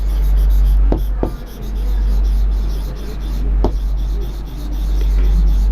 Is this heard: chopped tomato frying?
no